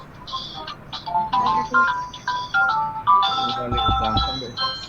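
A phone rings during an online surgery lecture, its repeating electronic ringtone melody running throughout, loud and close, with talk mixed in underneath.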